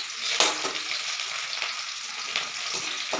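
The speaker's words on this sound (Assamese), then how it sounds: "অলপ সময় ভাজি ল'ম পিঁয়াজ।" Finely chopped onions fry in hot oil seasoned with cardamom and cinnamon, producing a bright, even hiss with occasional soft stirring clicks, close and steady throughout.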